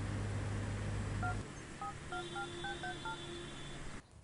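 A telephone number being dialed as a quick run of about ten touch-tone beeps, each short and clear, following a low hum that cuts off, then a steady tone before the line goes quiet.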